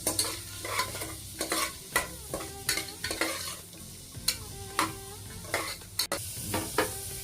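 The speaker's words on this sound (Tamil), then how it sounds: "வெங்காயம் இந்த அளவுக்கு வதங்கினா போதும்" Onions and green chillies sauté in a pan for a pea kurma, a soft sizzle broken by regular scraping strokes of a spoon stirring through them, close and rhythmic.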